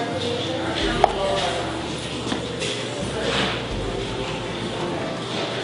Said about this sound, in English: I put the 2 pieces together, and then I cut the 2 pieces into thirds.